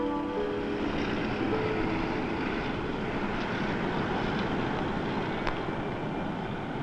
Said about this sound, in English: they have quite a stable of airplanes out there. All of them are T-38s